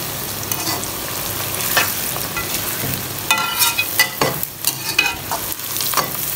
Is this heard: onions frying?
yes